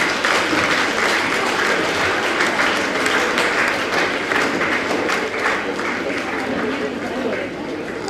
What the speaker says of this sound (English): Audience, please have a round of applause to the winners